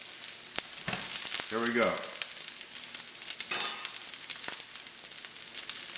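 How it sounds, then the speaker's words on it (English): Onions hiss and crackle in a frying pan as they are tossed, with brisk clicks and scrapes of the pan over a steady sizzle, and a short spoken remark near the start. "just put the onions in, and we're going to toss these just a little bit"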